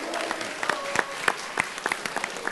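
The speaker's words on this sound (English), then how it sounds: "let's give all of you a round of applause for winning today" Scattered, thinning applause from an audience at a high school math tournament, individual loud claps standing out with gaps between them and a faint murmur underneath.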